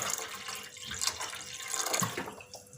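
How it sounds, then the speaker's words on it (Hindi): Water is poured into a cooking pot set over medium heat, ready to steam chicken seekh kebabs: a steady, close splashing stream lasting about three seconds with slight swells in loudness. "दरमियानी आंच के ऊपर पतीली रखी है। इसमें पानी शामिल कर देंगे।"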